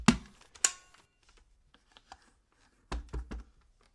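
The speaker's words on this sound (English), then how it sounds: "open the dustbin door and give it a tap to shake out any excess dust" Plastic dustbin of a Dyson vacuum cleaner tapped to knock out dust: two sharp knocks at the start, a few faint light ticks, then a quick cluster of three or four close, dry taps.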